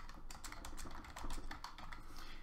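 Rapid, irregular keystrokes on a computer keyboard entering text into a form box, close and steady with no voices.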